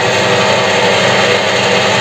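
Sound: WEISAN CJM360 lathe running at 600 rpm

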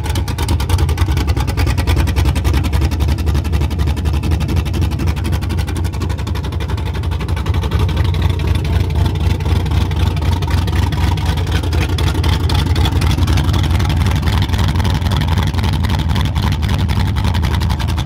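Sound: truck engine with cam and open headers idling loudly

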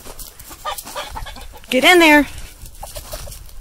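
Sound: chicken rooster clucking while being herded into coop

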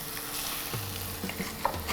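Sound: chicken frying in hot oil

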